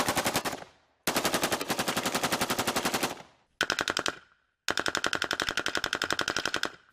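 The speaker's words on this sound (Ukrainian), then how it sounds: "Скільки ж часу насправді може стріляти Калашников?" A Kalashnikov assault rifle fires full automatic in four long bursts of rapid, evenly spaced shots, loud and close, separated by brief silences.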